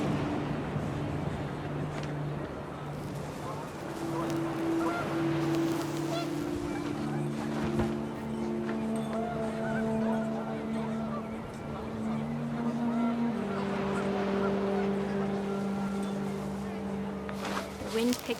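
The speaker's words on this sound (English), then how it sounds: "The wind picked up, and panicked geese appeared and quickly went." Panicked geese honk repeatedly in the video game What Remains of Edith Finch, long nasal calls in several bursts over gusting wind and a low ambient rumble, with faint talk underneath.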